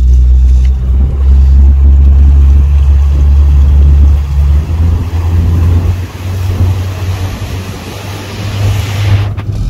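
Small boat's outboard engine drones loud and low, mixed with wind and water noise, then drops in pitch and fades toward a quieter wash of waves.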